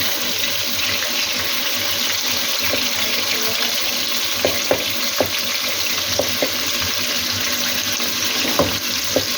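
Chicken keema fries in hot ghee with a steady, close sizzle. Occasional spatula scrapes and knocks against the pan rise above it.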